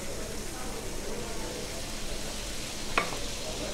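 A burger patty cooking in oil in a pan for an Afghan burger, giving a steady close sizzle with one sharp scrape or clink near the end, under faint background voices.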